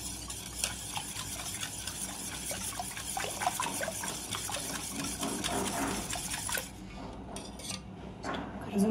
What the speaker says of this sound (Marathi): आम्ही अशा प्रकारे पाणी घालून अजून थोडं 1-2 मिनिट फक्त फेटून घेणार आहे